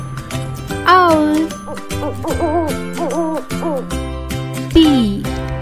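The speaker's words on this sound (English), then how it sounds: "O for owl." A cartoonish owl hoots in loud, swooping tones, repeated a few times over a bright children's music backing with tinkling chimes, close and prominent.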